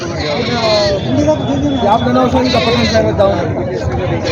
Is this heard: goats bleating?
yes